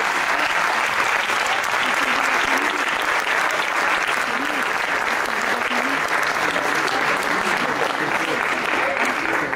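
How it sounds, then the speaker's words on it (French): A ceremony audience applauds a student, a loud, steady wash of many hands clapping that holds unbroken for nearly ten seconds with a faint murmur of voices underneath. "je vais demander à vous d'applaudir bien fort Julien Cotte"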